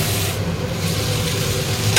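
Potatoes frying with salt in a hot pan give a loud, close, continuous sizzle, broken by the scrape and rustle of stirring, with no voices.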